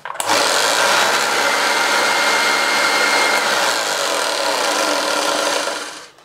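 An orange, refurbished Hoover Junior 1346a vacuum cleaner switches on and runs with a loud, steady, airy whoosh that holds evenly for several seconds, then cuts off abruptly at the end.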